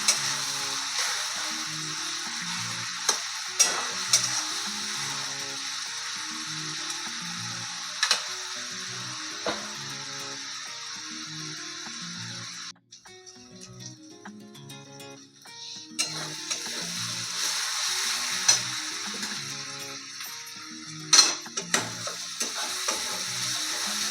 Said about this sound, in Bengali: এটা এবার ভালোভাবে কষতে থাকবো।